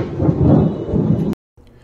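Loud, close thunder from a sudden summer-shower thunderstorm rumbles in a deep, continuous roll mixed with rain noise, then cuts off abruptly, leaving a faint patter.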